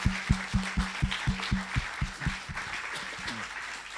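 Conference meeting audience gives a round of applause: a few nearby hands clap in a steady rhythm over a softer spread of clapping, tapering off toward the end.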